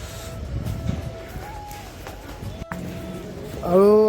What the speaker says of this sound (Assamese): এই হৈছে লামলিং ষ্টেচন।